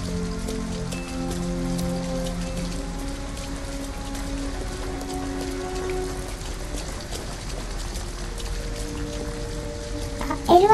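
Steady rain falling in Detroit: Become Human, a dense continuous patter on surfaces throughout with faint musical tones underneath and a brief sharper sound at the very end.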